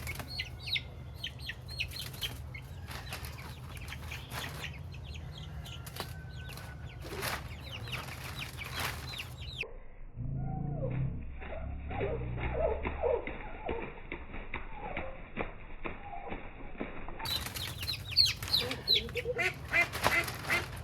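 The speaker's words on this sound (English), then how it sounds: "I have 5 little meat birds that I had here from day old" Two-week-old broiler chicks cheep and peep in quick, high chirps, fairly close, with scratching and rustling underneath.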